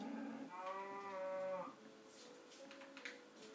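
A Minecraft cow gives one drawn-out moo that comes through clearly, and softer game sounds follow, heard faintly with no talking.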